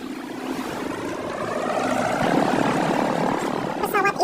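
A plane flies overhead in an animated sea scene, a steady loud engine drone that swells and holds for several seconds with a brief rattle near the end.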